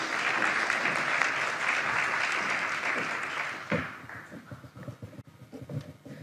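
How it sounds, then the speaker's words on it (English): Conference plenary audience giving another round of applause for a speaker taking the stage, steady crowd clapping that fades out after about four seconds, leaving a few scattered claps and room noise. "Another round of applause"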